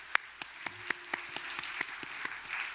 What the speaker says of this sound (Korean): 우리 박수로 한번 감사합시다.